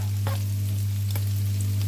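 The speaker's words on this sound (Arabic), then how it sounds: "نشوح البصل مع الفلفل الكوب، قلب كله على بعض" Onions and bell peppers sautéing in a pan, giving a faint sizzle with a couple of short scraping stirs over a steady low hum.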